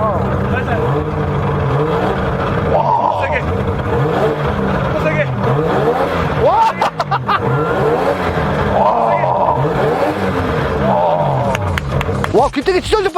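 A Mazda rotary engine revs repeatedly, rising and falling in pitch with a loud, rasping roar, close by, with voices faintly underneath.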